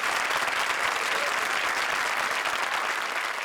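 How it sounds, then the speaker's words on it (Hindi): Studio audience on an Indian television comedy show breaks into loud, sustained applause, a thick wash of clapping that holds evenly throughout with no voices on top. "आपकी एक्स्ट्रा इनिंग्स के लिए जोरदार तालियां।"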